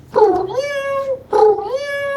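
A man imitates a cat with two drawn-out, tonal meows, each rising then holding steady, voiced loud and close with a short pause between them.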